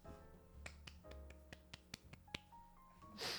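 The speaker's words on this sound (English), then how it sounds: "I meant golf clap." Soft, sparse claps from a small group, about eight separate light hits spread across a few seconds with gaps between them, close by and quiet, with a low hum underneath and a brief rustle at the end.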